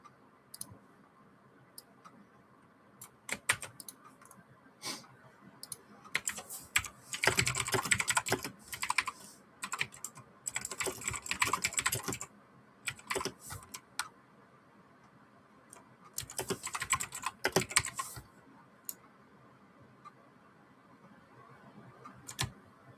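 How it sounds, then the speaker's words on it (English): Bursts of close, clattering typing and key clicks on a failing computer keyboard, with quieter pauses between flurries and no talking. "My keyboard is starting to fail."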